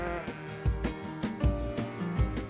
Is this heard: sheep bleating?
yes